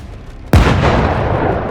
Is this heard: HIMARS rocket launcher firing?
yes